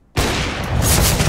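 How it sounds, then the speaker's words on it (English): A grenade explodes in Counter-Strike: Global Offensive, a sudden loud blast that hits at once and rolls into a sustained, rumbling roar with crackling debris that carries to the end. "Throwing grenade"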